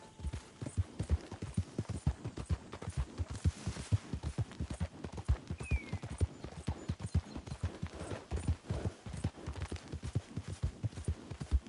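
Hooves of a horse galloping in Red Dead Redemption 2 beat out a steady, fast clip-clop rhythm close by, continuous throughout over a low hum.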